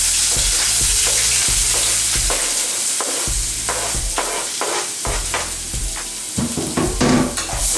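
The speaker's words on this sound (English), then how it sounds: "Here I have coated the bottom of the pan with extra virgin olive oil so we can add our onions and our peppers." Chopped onions and serrano peppers sizzle steadily in hot extra virgin olive oil in a pan, a close, loud frying hiss with occasional stirring scrapes and clinks against the pan.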